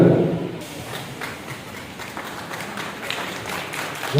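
A crowd gives sustained applause for an award-winning RTC bus driver at a ceremony, a steady, moderately loud patter of many hands clapping, with a louder bump at the start.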